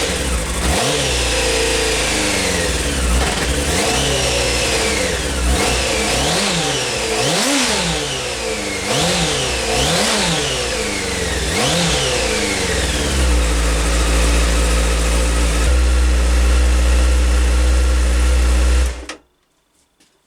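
A cold Honda Hornet 600 motorcycle engine, just after a carburetor clean, runs steadily for about nineteen seconds with repeated revs rising and falling, then settles into a lower, even idle before cutting off abruptly near the end.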